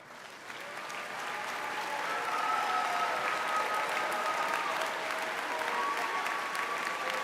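Audience applause at a Wake Forest School of Law hooding ceremony, a sustained wash of clapping from a large crowd that swells after the start and holds steady throughout.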